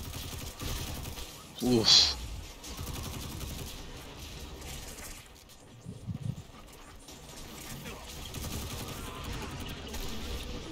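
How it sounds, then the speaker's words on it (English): Gunfire in Destiny 2: Curse of Osiris rattles in a dense volley, with one sharp, loud burst early on, then continuous combat noise beneath a player's brief spoken reactions. "We are under withering fire."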